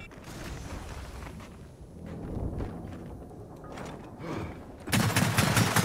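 Gunfire from a destructive, sniper-like weapon in Gears of War 4, a run of sharp shots building over several seconds and ending in a loud, dense burst of fire with no voices.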